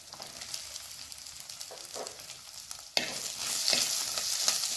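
Shallots and green chillies for a Tamil crab curry fry in hot oil, a steady close sizzle with scraping stirs, growing louder and brighter midway as more shallots hit the pan.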